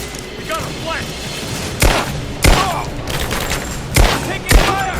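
Gunfire in the Rise of the Tomb Raider video game, with four loud, sharp shots spread unevenly through the clip over a steady battle din and faint voices.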